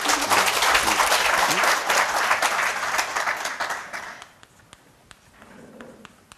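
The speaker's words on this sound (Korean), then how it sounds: "박수 한번 치시오" Audience at a Buddhist dharma lecture on the Lotus Sutra clapping together, a full close round of applause for about four seconds that quickly thins to a few scattered claps and taps.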